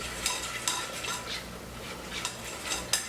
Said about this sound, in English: So mix it all in so it's all nice, well incorporated.